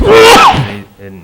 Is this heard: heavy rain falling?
no